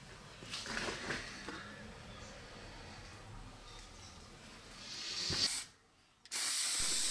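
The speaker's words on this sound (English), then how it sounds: "So this is the last coat of clear coat now, first and last coat." An aerosol can sprays clear coat lacquer onto an axe in short hissing bursts, the longest near the end, with a brief silence before a final loud spray.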